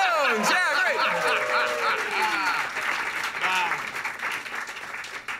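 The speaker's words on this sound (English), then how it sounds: "please give us applause" A studio audience at a talk show's Christmas special bursts into loud applause mixed with whoops and cheering voices, sustained throughout and easing slightly toward the end.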